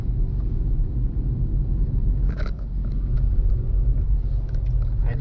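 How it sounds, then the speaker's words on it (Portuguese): A car accelerates uphill and gives a low, sustained engine rumble heard from inside the cabin, steady and fairly loud, with a brief rustle partway through. "Tem que acelerar o carro pra ele subir."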